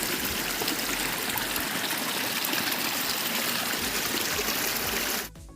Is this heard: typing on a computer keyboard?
no